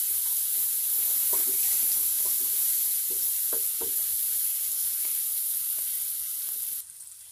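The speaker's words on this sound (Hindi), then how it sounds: "लहसुन हमारा फ्राई हो गया है" Garlic paste fries in a pan over a medium flame for Punjabi chole masala, a steady close sizzle and hiss with soft scraping stir strokes scattered through it.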